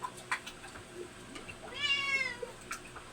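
A cat meows close by in a home, giving a clear drawn-out meow in the middle amid small household noises, with no talk over it.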